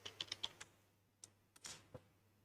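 Short burst of computer keyboard typing while entering a command, about five quick close keystrokes followed by a few scattered clicks, faint and alone.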